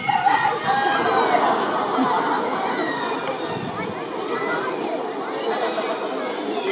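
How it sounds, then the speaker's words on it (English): A red jungle fowl rooster crows at a zoo bird show amid a busy background of chatter and other birds, the calls moderately loud against constant ambient noise. "they are a red jungle fowl"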